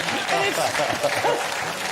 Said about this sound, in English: Well, we applaud that. Yes, let's applaud that.